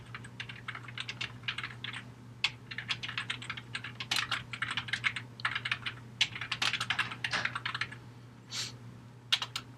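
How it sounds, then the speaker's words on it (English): Steady bursts of typing on a computer keyboard as code comments are entered, rapid clicking keystrokes close and clear over a constant low hum, no voices. "start coding our solution here to the problem"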